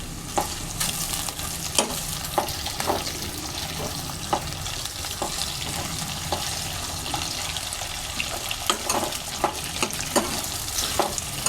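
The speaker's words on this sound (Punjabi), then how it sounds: "ਤੇ ਨਾਲ ਹੀ ਆਪਾਂ ਪਾ ਦਾਂਗੇ ਆਲੂ ਥੋੜਾ ਜਿਹਾ ਆਲੂਆਂ ਨੂੰ ਸੇਕ ਲਵਾਵਾਂਗੇ ਪਹਿਲਾਂ ਕੱਲਿਆਂ ਨੂੰ" Potatoes fry alone in a pan for aloo bhindi, giving a steady close sizzle with scattered stirring scrapes and clinks throughout.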